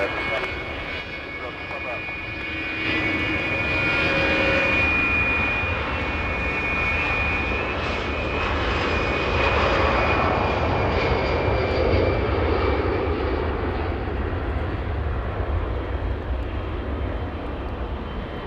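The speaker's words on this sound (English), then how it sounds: "Because the GE90s were spooling up." GE90 jet engines on an airliner spool up at Los Angeles International Airport, a loud, rising whine and roar that builds over several seconds and holds, heard from a distance outdoors with a continuous broad rumble.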